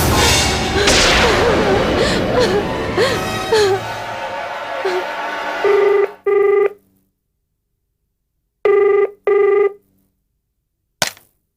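An old-style telephone rings in a night-time scene of a BR Chopra Hindi serial, several loud, separate ring bursts with silent gaps following a stretch of dramatic music.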